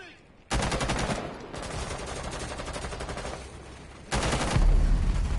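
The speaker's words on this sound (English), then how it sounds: "watch me get sniped through it" Gunfire in Rainbow Six Siege (Operation Blood Orchid) on PS4, loud sustained bursts of shots filling most of the stretch, with a fresh loud burst near the end.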